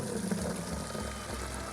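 Maple sap is poured into a bucket at a sugar shack, giving a faint, continuous trickle and splash of liquid for just under two seconds, with no voices.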